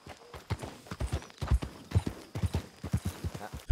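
Close, rhythmic clip-clop of a horse's hooves in Red Dead Redemption 2, paired thuds repeating in a steady walking gait with faint background game sounds.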